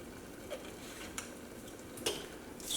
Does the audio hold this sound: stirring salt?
yes